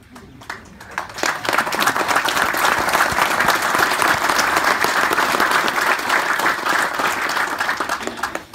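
Loud, sustained applause from an audience at a Vietnam War Veterans Day event, a dense wash of many clapping hands that swells quickly after a quiet start and holds steady throughout.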